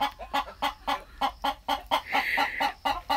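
Chicken clucking in a rapid, regular series of about a dozen short throaty clucks, close and loud, with no voices over it.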